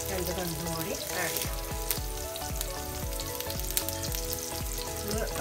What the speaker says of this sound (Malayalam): ഒരുവിധം പകുതി വഴന്ന് വന്നിട്ടുണ്ട്, ബ്രൗൺ കളറൊന്നും ആവണ്ട